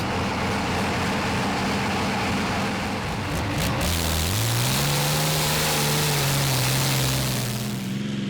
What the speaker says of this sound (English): And first on the track is Red Rooster, with Torben Andersen in charge of the 1400 horsepower Transmash motor in a Volvo chassis.